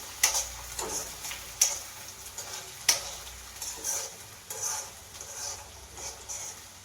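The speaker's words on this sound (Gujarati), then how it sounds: "બધું મિક્સ હલાવી દેવાનું" A spoon scrapes and taps around a pan at a slow, irregular pace, stirring a ragda chaat mixture over a faint background sizzle.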